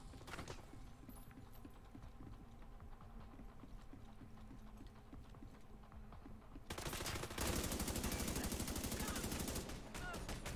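M4 rifle fire in the tactical shooter Tom Clancy's The Division 2: scattered distant pops and clicks over a busy combat backdrop, then a sudden loud, sustained burst of rapid automatic shots near the end.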